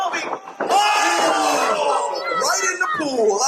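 A wrestling arena crowd erupts into a sustained loud roar of excited voices and shouts, dipping briefly before surging back at full volume.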